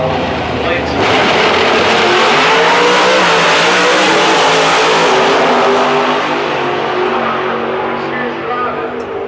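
A Super Gas class drag racing car at Houston Raceway Park roars loudly off the line and accelerates down the strip, its engine climbing steadily in pitch for several seconds before fading slightly into the distance.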